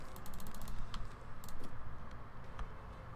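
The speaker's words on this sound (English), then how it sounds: "Yeah, the keyboard is loud." A loud computer keyboard typed on at close range, a rapid irregular clatter of sharp key clicks running throughout, with no talk over it.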